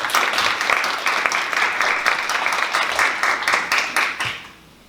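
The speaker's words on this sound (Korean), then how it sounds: "큰 박수 부탁드리겠습니다" Audience applause for Seoul Mayor Oh Se-hoon stepping up to lecture at Kookmin University, a dense, steady burst of clapping from a packed hall that holds for about four seconds before quickly fading out.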